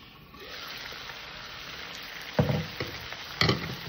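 Mutton masala with onion sizzles steadily in a pan while a spoon stirs it, with a couple of louder scraping stirs near the end, close and moderately loud.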